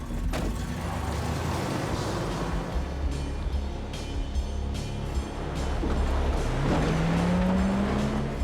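A car engine roars under hard full-throttle acceleration in a film chase scene, a loud sustained drone with rising pitch near the end and road noise throughout.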